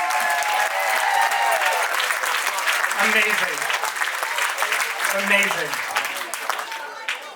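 Loud crowd applause at an auction-style event, sustained dense clapping with a voice calling out over it twice, tapering off near the end.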